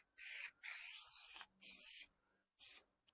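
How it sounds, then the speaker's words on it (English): High-strength spray adhesive hissing from an aerosol can onto car interior backing during a VY Calais restoration, four close bursts of bright hiss, the second long, with short pauses between. "we'll give it a nice good spray on the backing"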